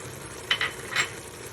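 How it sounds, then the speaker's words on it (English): Vegetables for stuffed peppers sauté in a pan: a few quick, soft stirring scrapes over a faint, low sizzle, close but quiet, with no talking. "We'll saute them for a little bit as well, 3 to 4 minutes, not too long"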